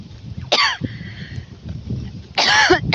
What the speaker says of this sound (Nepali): कस्तो खोकी लाग्यो क्या